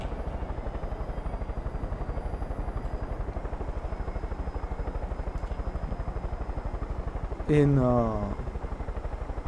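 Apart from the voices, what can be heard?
helicopter flying in video game Far Cry 5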